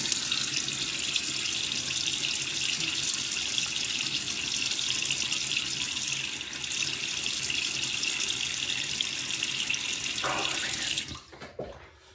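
Steady rush of water from a bathroom tap running into a sink before a wet shave, loud and continuous for about eleven seconds, then cut off abruptly with a few brief drips and handling sounds at the end.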